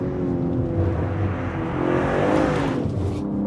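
A BMW M3 Competition or Alfa Romeo Giulia Quadrifoglio sports saloon engine revs steadily on a test drive, a continuous loud drone that swells and eases slightly, heard from inside the car with no talk.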